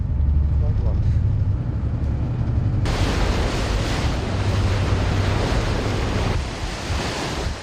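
Heavy ocean waves crash and surge continuously around a hospital ship at sea, with loud wind buffeting the microphone and a low engine rumble underneath.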